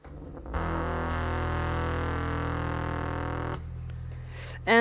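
Bass guitar played through a regular distortion effect pedal, a single thick, buzzing sustained note that rings steadily for about three seconds and then cuts off into a low hum.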